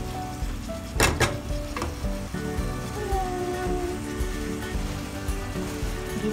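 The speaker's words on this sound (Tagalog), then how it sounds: "Sibuyas, bawang at kamatis. Ginisa-gisa mo na natin siya." Onion, garlic and tomato sautéing in a pan: a steady close sizzle with a couple of sharp utensil knocks early on and occasional stirring scrapes, no voices.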